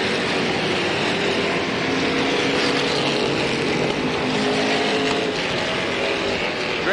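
Sportsman stock cars racing at Slinger Speedway, a dense, steady roar of engines that stays loud and continuous throughout with no break or lull.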